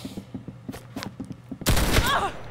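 Roblox Arsenal gameplay: rhythmic in-game footsteps tap along, then a sudden loud burst of rapid gunfire erupts near the end.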